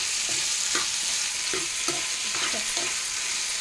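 Food is mixed and fried in a pan: a constant sizzle runs beneath rhythmic spatula strokes, scraping roughly twice a second, close and clear.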